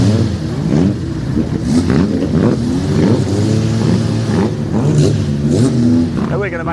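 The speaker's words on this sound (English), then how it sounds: "let's just enjoy these cars heading out for their qualifying session" 750 Formula race cars heading out of the pits for a qualifying session at Mallory Park, their engines revving and accelerating nearby, with a commentator talking steadily over the noise.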